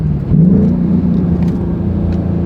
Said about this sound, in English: Watch this, downshifting, ready?